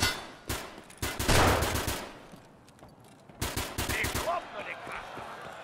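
Escape from Tarkov Arena gunfire comes as loud, close rapid bursts near the start and again after a quieter gap, with game ambience between the volleys.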